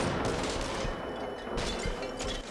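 Quiet, muffled gunfire in the VR shooter Until Dawn: Rush of Blood pops in several short bursts over a steady rumbling game background.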